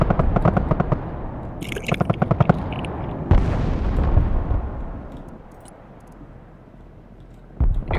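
Artillery fire in the game Broken Arrow: a rapid run of sharp gunfire bursts leads into one heavy booming blast that rolls off into a long fading rumble, followed by another impact at the end.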